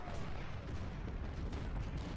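Civil War cannon and artillery fire rumble through the Chickamauga battle in the strategy game Ultimate General: Civil War, a dense, continuous, distant-sounding roar of overlapping booms with no talking.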